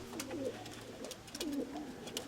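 Soft, low pigeon coos repeat in gentle rolling phrases, a couple of birds calling nearby over faint outdoor background noise.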